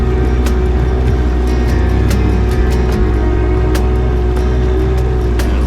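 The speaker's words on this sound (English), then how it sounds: "This boat's not really made to be a big thing going fast." A small, slow pleasure boat's motor drones steadily on Lake Lewisville, a constant close engine hum with faint clicks and knocks over it and no talking.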